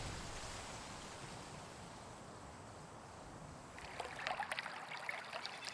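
A babbling stream beside a vineyard flows with a steady close rushing wash, brighter splashing trickles rising in the last couple of seconds, no talk.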